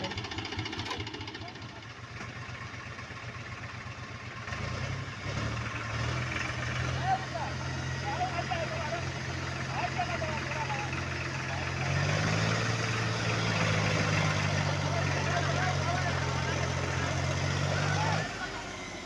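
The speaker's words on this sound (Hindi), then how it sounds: "पूरी तरह कोशिश करने के बाद ट्रैक्टर आगे से नहीं निकला।" A 1996 Mahindra 375 DI tractor strains while stuck, its diesel engine holding a loud, steady low drone that swells and climbs as it is pushed harder, with voices talking over it.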